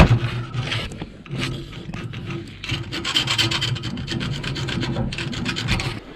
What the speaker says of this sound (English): we'll kind of take a screwdriver and scrape these faces of these flanges to get them cleaned up a little bit